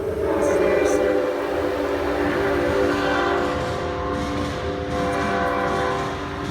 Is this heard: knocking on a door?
no